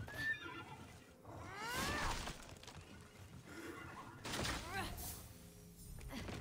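A horse in the video game Immortals Fenyx Rising neighs twice, sharp whinnies rising and falling, amid game clatter and crashing effects, with a player talking in between.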